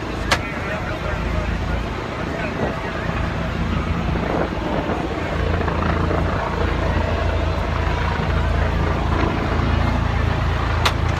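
A rescue helicopter lands near firefighters working with victims, its steady rotor and engine roar continuous and loud, with wind buffeting and occasional sharp clicks, and voices talking over it.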